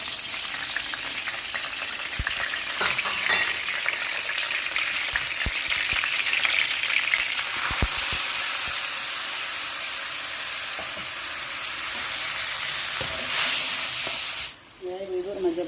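Anchovy-like fish stir-fry in hot oil with a steady, close sizzling hiss throughout, broken by scattered clicks and scrapes of stirring, then cut short near the end as a voice begins.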